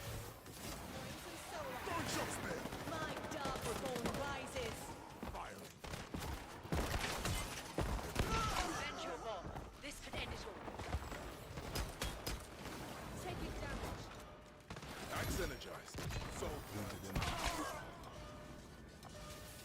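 Gunfire in an online shooter game, scattered bursts and impacts over a busy, continuous mix of game noise and a talking voice.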